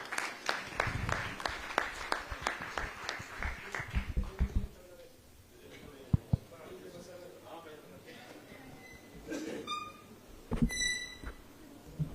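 Applause from the audience at the Global Alumni Meet 2022 in a hall: rapid clapping for about four seconds, then it fades into quiet murmuring, with speech toward the end.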